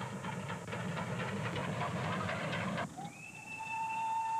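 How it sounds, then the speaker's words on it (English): A train approaches along the rails with a continuous heavy rolling rumble, then a sustained high whistle tone sounds over it for the last stretch, with no talk. "there's a train coming"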